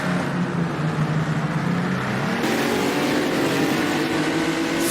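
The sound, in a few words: 1959 Aston Martin vintage sports car engine, racing video game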